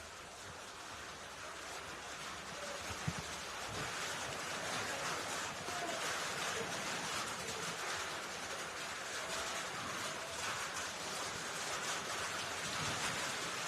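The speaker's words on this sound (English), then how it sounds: "the rain has returned. It's coming down real hard here too" Heavy rain pouring down on an outdoor football pitch during a men's league match, a dense, steady hiss that fills the whole stretch at an even level with no talk over it.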